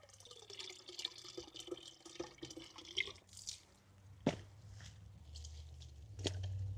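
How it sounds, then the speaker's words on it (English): A potted fern's root ball sits submerged in water to rehydrate, releasing small bubbling and dripping sounds, faint, close and irregular, with a low hum in the background. "you can hear those air bubbles as the root ball fully rehydrates"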